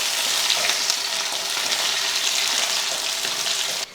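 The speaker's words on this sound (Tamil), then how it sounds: "அடுத்து வதக்கிடுவோம்." Onions and curry leaves sauté in a hot pan with a steady, loud, close sizzle that holds for about four seconds before cutting off at the end.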